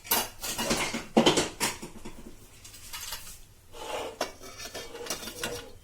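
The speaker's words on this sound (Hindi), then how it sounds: "ये जो मैंने कुकर का ढक्कन लगा दिया" Metal clanks and scrapes as a lid is set and fitted onto a pressure cooker holding dal, close by, with a few clattering knocks.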